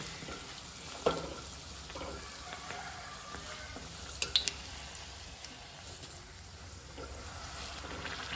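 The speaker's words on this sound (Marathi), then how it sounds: "अशी व्हडली मिडियमाचेर दवरून न्ही आमकां हे सगळे फ्राय करून घेवपाक जाय" Food fries in hot oil over a medium flame, producing a quiet, continuous sizzle with a few brief louder pops and clinks.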